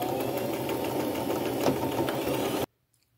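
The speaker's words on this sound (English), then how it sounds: "just do a top stitch right across the bottom as close as you can." A sewing machine runs a top stitch across an upcycled fabric pouch, a steady, close mechanical hum and rapid needle clatter that stops suddenly after about two and a half seconds.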